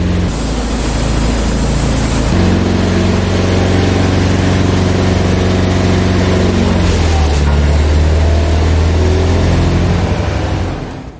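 A steady, loud engine drone driving the hydraulic pump of a scrapyard-built demolition muncher filled with hydraulic fluid, humming continuously with a hiss of spray at the start and a slight shift in pitch partway through.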